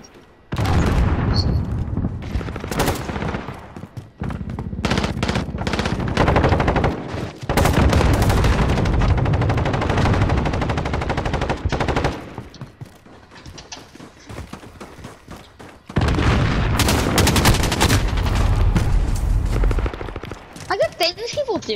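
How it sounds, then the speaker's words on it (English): Gunfire and grenade blasts in a Modern Warfare multiplayer match: loud bursts of rapid automatic fire and heavy booms in several clusters separated by brief lulls, with players talking over the action. "firing off our grenades"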